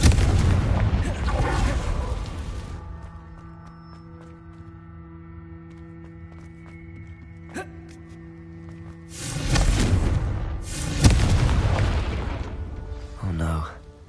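Confringo explosive spells go off in Hogwarts Legacy on PS5, with loud, broad booming blasts at the start and again later, separated by a quieter musical stretch, with voices in the mix.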